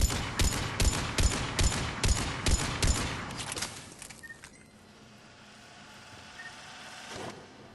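A Mattock rifle fires in Mass Effect 3 in a rapid, steady burst of about eight loud, sharp shots at targets, then quiet with a faint engine-like hum.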